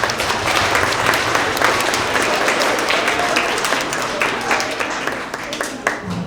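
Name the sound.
students applauding at award assembly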